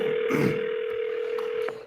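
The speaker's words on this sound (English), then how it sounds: "pick up the phone and start dialing" A telephone handset gives a steady, close dial tone that holds unbroken for about two seconds, with a faint click or blip near the end.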